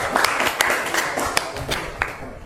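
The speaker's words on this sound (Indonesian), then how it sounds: "Ya, tepuk tangan kurang lebih." Brief classroom applause during an Islamic studies lesson: a short burst of scattered, fairly close hand claps with uneven rhythm over a couple of seconds.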